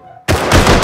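A single loud, close gunshot fired in a video game, bursting in suddenly after a brief quiet and ringing out with a heavy echoing tail, with no talking.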